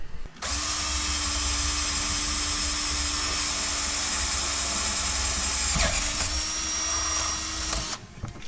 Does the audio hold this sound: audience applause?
no